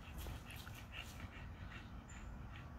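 A dog whimpers faintly through steady background hiss while male dogs and American exotic bully females mingle, the soft whines low and continuous.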